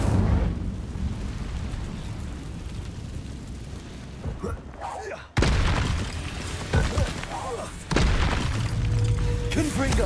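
An Incendio fire spell cast in Hogwarts Legacy, a loud whooshing, crackling burst of flame that cuts in sharply and repeats in heavy surges, with a voice speaking over it.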